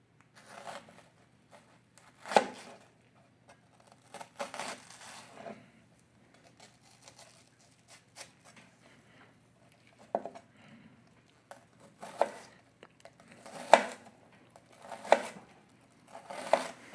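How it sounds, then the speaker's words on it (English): Knife rock-chopping food on a cutting board for a homemade pasta sauce, quiet clusters of quick taps and scrapes close up, coming in short bursts with pauses between, no talking. "we're gonna rock and chop through this a few times"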